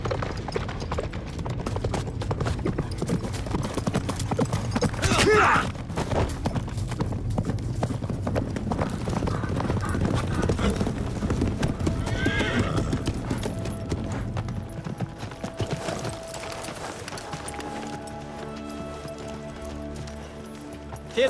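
Several horses gallop close by in a rapid, drumming clatter of hooves, with a sharp neigh cutting through partway and a few shouts and calls under the thundering run.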